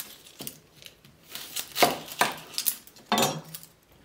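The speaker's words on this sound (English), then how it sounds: "going to have to chop the onions extremely fine, and the garlic and the chilies." Knife chopping onions, garlic and chilies finely for a smooth curry sauce, heard as several sharp, close taps and clatters against a board in irregular bursts, with no talking.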